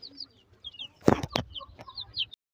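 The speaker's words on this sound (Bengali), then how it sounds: "এখানে 10টি আছে মুরগির বাচ্চা।" About ten young chicks give high-pitched peeps alongside soft clucks from chickens, with a few closer thumps and rustles in the middle. The sound is fairly quiet overall.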